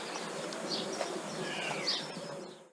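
Birds coo and chirp faintly in a quiet, grimy industrial alleyway on a Bristol morning, scattered calls over a steady hiss of distant background noise.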